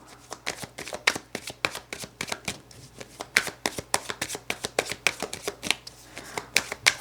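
Tarot cards being shuffled by hand, a rapid series of crisp riffling slaps and flicks repeating steadily for several seconds, close and fairly quiet.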